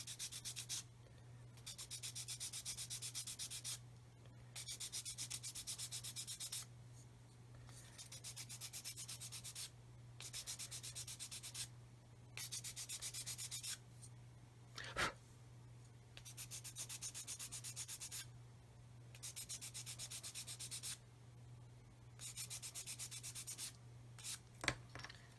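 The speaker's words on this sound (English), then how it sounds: "And then I'm going to sand that flat." A plastic part from a Hobby Boss 1/35 Defender SWB scale model is rubbed flat on sandpaper in steady back-and-forth bursts, close and fairly quiet, with short pauses between strokes over a constant low hum.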